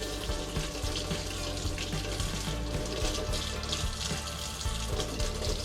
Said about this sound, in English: I'm gonna swish some water in there and try and get it all out.